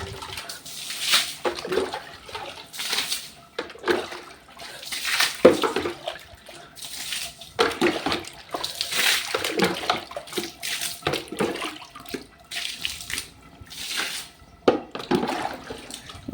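Bore-well water gushes and splashes in irregular bursts close by, surging and easing again and again across the whole stretch.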